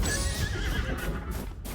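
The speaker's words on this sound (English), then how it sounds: "Why is the horse attacking you?" A horse in the video game Zelda: Tears of the Kingdom gives a loud, close whinny, with a few hoof clip-clops mixed in.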